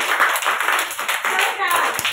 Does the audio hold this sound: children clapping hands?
yes